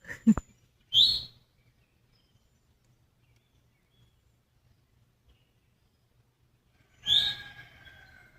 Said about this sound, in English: there's so many different types of birds, and they each have their own little language